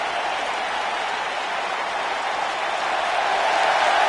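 A video game arena crowd in WWE 2K19 roars with a dense, steady wash of cheering and applause, swelling slightly louder toward the end.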